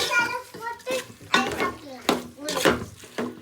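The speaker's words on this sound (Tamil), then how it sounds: "இதே வந்து கிண்டி விட்டுருவோம் நல்லா கொஞ்சம் நேரம் சிக்கன் வந்து வதங்கட்டும் மசாலாவிலேயே வதங்கட்டும்" Chicken sautéing in biryani masala in a pot, stirred with a utensil that scrapes and clinks against the metal in uneven bursts over a soft sizzle, close by.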